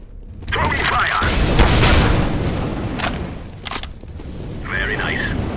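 An incendiary grenade is thrown during a CS:GO match, a short burst among dense game noise of bangs and mechanical clatter, with a voice talking over it.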